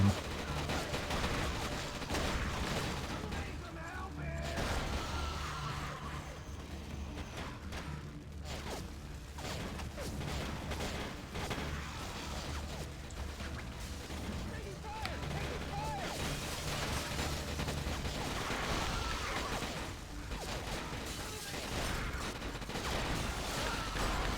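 Zombie-like aliens firing guns in an Area 51 shooter game, with steady bursts of gunfire and fusillades over continuous background game noise, dense and busy throughout.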